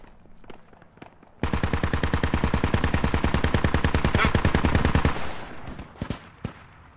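Rapid automatic gunfire in the military shooter Squad hits near the player at a window: a steady, loud burst of close shots lasting several seconds, with scattered single cracks before and after.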